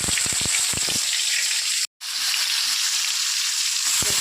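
Narthangai citron pickle, cut and squeezed, hits hot oil during tempering and sends up a steady, close, crackling sizzle, with a few sharp pops at the start and a brief break in the middle.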